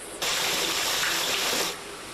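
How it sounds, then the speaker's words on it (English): Water gushes from a leak flooding a tire business, a loud, steady roaring rush that starts abruptly, holds for about a second and a half, then drops back to a lower hiss. "a closer look at the damage and why the water ran for so long"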